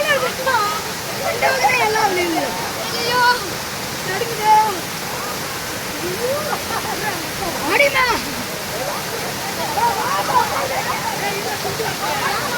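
Masila waterfall in the Kolli Hills roars as a loud, constant rush of falling water, with people talking and calling out over it.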